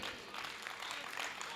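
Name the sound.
audience applause at a poetry event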